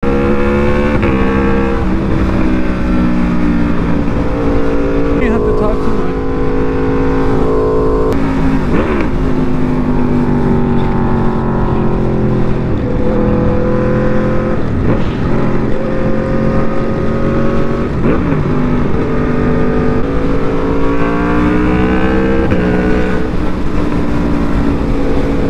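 A very loud superbike motorcycle engine roars close by, its pitch climbing and dropping through repeated revs and gear changes, with no pause across the whole stretch.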